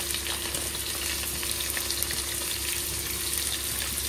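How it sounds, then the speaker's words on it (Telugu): Onions frying in a hot pan, a dense, steady sizzle that stays loud and constant throughout with no talking. "ఇవి కొంచెం వేగాక మనం ఆనియన్ యాడ్ చేసుకుందాం."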